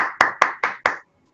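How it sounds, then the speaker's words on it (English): Five sharp, evenly spaced hand claps from a single person, loud and close, followed by a short quiet tail with no talking. "We start our program with a big clap for all of you."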